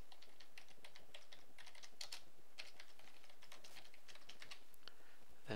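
Rapid, irregular clicks of fingers typing on a computer keyboard, quiet and close, in short bursts with brief pauses.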